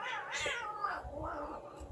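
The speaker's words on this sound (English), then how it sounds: "That's how you get rid of cats." A cat meows and caterwauls in several drawn-out, wavering cries, fairly close and loud, with low background noise.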